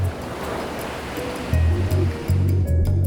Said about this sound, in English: it runs on a system called Endless Surf, which uses compressed air instead of paddles or plows to generate waves